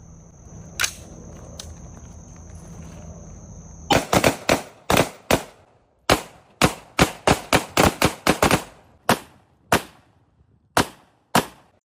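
A gun fires at bras, a long series of sharp, loud cracks in an irregular rhythm, some clustered close together and others spaced apart, after a quieter stretch with a single early shot.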